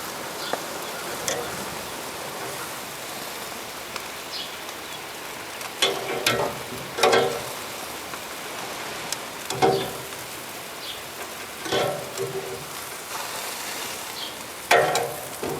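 Fresh vegetables steaming and sizzling in a pan on an outdoor grill, a steady soft hiss with scattered louder crackles and pops, heard close up without talking.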